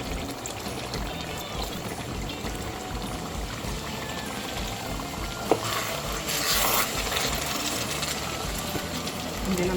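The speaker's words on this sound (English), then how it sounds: "I'm going to add a little bit of water." Water is poured into a simmering tomato and habanero sauce with tilapia fish, a steady close pouring and bubbling wash running throughout, with a brief knock partway through.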